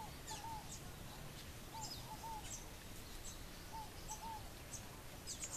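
A small garden bird in Barinas, Venezuela, gives short, repeated chirping calls in clusters every couple of seconds. The calls are faint and distant against a constant background hiss.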